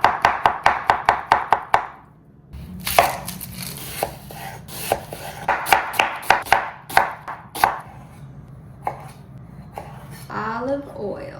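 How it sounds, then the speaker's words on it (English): A knife chops bell peppers on a cutting board for stuffed peppers: first a fast, even run of crisp knocks, then looser, irregular cuts with a voice speaking over part of the chopping. "Lexi, you want to cut it like this"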